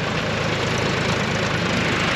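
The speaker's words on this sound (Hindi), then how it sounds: "देखिए बिल्कुल स्लो स्पीड से चलते हुए ट्रैक्टर" A tractor engine runs at slow speed on Rampura road, a steady loud low rumble with constant road and wind noise.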